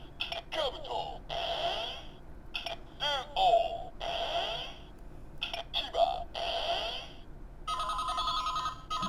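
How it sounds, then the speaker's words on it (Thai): Kamen Rider Decade K-Touch transformation toy plays its electronic phone-ringing effect, bursts of warbling synthetic ring tones repeating in quick rhythm with short gaps, fairly loud and close, ending in a buzzier ring. "ดีเคทโทรมาแล้ว"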